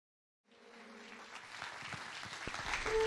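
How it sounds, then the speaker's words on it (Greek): Faint applause from an audience welcoming a performer onto a stage, soft scattered clapping that starts abruptly and builds gradually, heard from a distance. "θέλαμε ένα πολύ πολύ θερμό και ζεστό χειροκρότημα να υποδεχτούμε στη σκηνή τον Αλέξανδρο Τσίκο"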